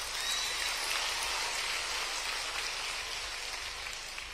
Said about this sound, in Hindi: ताली जोर से बजाओ ना खेलने पे